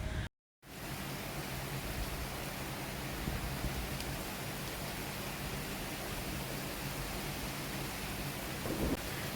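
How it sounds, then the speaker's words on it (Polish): Heavy rain falls in a thunderstorm, a dense, steady wash of downpour that keeps going after a brief silence at the start, with no voices. "u nas się zerwała burza. Teraz się troszeczkę uspokoiło, chociaż leje jak z cebra."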